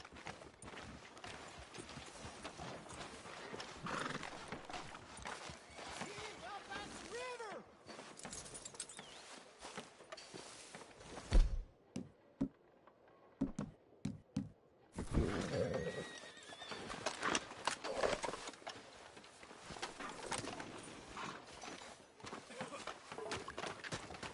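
Horse whinnies and hoof clip-clops in Red Dead Redemption 2, a neigh and walking hooves recurring over a steady game ambience, with brief quieter gaps and a few louder close knocks midway.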